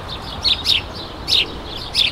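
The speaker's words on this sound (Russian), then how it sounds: "Вот, например, вы записывали шум леса, а близкие звуки птиц не нужны." Forest birds chirp in short, bright bursts, three or four quick calls close together over a soft ambient background.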